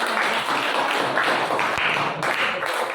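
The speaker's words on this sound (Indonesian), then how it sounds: "Bagus, tepuk tangan." Classroom clapping from a group of students, a steady continuous patter of hands at moderate loudness lasting a few seconds, with a sharp tap or knock standing out midway.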